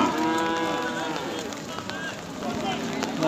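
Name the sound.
cattle mooing at a livestock market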